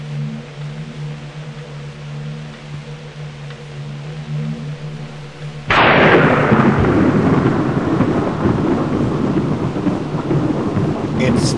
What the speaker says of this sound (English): Still a dark and stormy night.